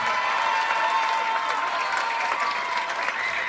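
Sustained applause from an audience at a school cultural-week ceremony for students, dense steady clapping at even loudness throughout with a faint crowd murmur mixed in.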